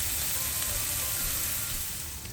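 Thinly sliced celery, cut on the bias, sizzles steadily in a hot pan alongside carrots for Chinese vegetable fried rice, a continuous close frying hiss with no talking.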